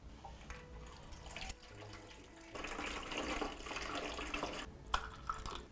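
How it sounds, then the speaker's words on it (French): Room-temperature water is poured into the reservoir of a potted Guzmania, a close, uneven splashing and trickling that swells louder partway through, with small drips and pauses, and no voices. "Maintenant, je vais remplir la réserve avec de l'eau à température ambiante,"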